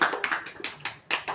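Classroom students clapping for a classmate's answer during a teaching practice lesson: a few short, uneven bursts of hand claps, moderately close, with pauses between them and no talking.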